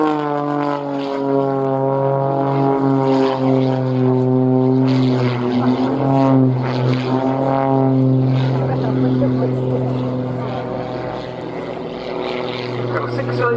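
A high-performance aerobatic propeller plane with a six-cylinder engine of over 300 horsepower drones loudly at an RNAS Yeovilton air show, its pitch sliding as it passes, with a commentator talking over it.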